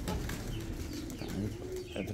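Pigeons coo in low, repeated throaty rolls, close and fairly steady over the whole moment, with faint chirps in the background and no talk.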